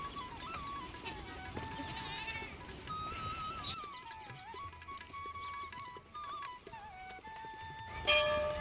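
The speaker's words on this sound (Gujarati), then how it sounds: "बकरी छेक ऊपर ऊंधी चरावा लईने आवे आ लोको।" Goats graze among rocks on a hillside near a village temple in Gujarat, giving repeated wavering bleats that carry from a short distance over an outdoor hiss, with one louder burst near the end.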